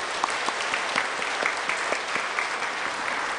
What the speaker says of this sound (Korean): 우리 함께 감사의 박수를 하나님께 올리십시다.